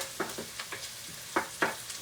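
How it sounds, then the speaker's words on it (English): Minced lamb sautés in a pan with a soft sizzle and intermittent scraping stirs of a utensil, quiet and close. "I have to saute this till it becomes brown"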